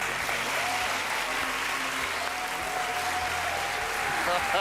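Steady applause from a large television talent-show audience, a dense continuous clapping that fills the hall for several seconds, with faint voices mixed in underneath.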